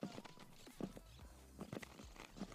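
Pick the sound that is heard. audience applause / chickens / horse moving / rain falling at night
horse moving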